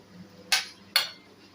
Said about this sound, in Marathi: आता सगळी कैरी मी अशी चिरून घेणार आहे